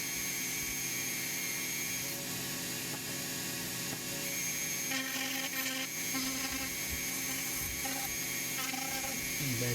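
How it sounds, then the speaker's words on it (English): A Kutzall coarse round-nose cylinder burr grinding a small wooden pocket cross, a continuous high-pitched rotary whine with the bite of the burr changing pitch slightly as it cuts, steady and close. "I'm going to use that round nose cylinder burr from Kutzall, both actually a coarse burr"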